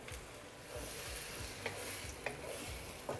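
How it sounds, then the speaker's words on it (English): Beaten egg white pours into prawns frying in a wok for a Chinese prawn and egg stir fry with broccoli. A quiet, low sizzle runs under soft stirring scrapes and occasional light clicks, with no talking. "now we add in our egg white mixture"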